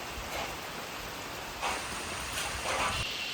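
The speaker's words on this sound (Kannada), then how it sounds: "ಆದರೂ ಕೂಡ ಮಳೆ ಬಂತು ಕಣ್ರಿ" Rain falls steadily on a construction site during plastering work, a continuous hiss with a few louder splashing bursts, close and moderately loud, with no voices.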